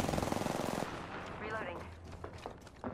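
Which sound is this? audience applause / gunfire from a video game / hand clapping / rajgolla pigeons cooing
gunfire from a video game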